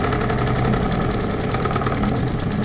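A steam engine running without its flywheel at low revs, a steady dense mechanical chug that stays loud and constant throughout, close up with no talk.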